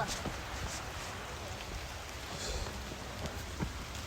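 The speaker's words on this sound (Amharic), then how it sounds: "ኧረ ዝናቡም እኮ እየበረታ ነው።" Steady rain pours down in a continuous broadband hiss with scattered drop impacts, loud and close throughout, with a faint voice or two low beneath it.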